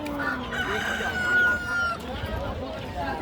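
A rooster crows at a busy livestock market, a single long call rising over steady crowd noise and nearby talk.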